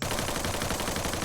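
Automatic gunfire in the Free Fire video game, a dense rapid burst of shots that fills the whole brief moment at a steady, loud level.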